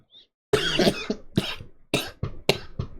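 A person coughs several times in quick, sharp bursts, close and fairly loud, after a brief quiet moment.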